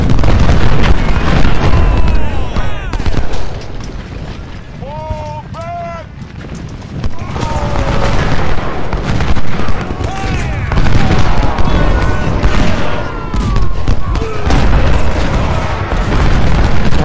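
Booming cannon shots from Civil War artillery batteries in the video game Ultimate General: Civil War, loud and repeated across a busy battlefield soundscape, with a person talking over the action.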